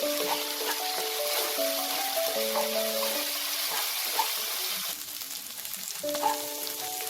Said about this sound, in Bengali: এই আদা রসুনের পেস্টটাকেও ভালো করে তেলে নাড়াচাড়া করে নিতে হবে।